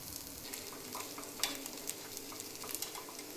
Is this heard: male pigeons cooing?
no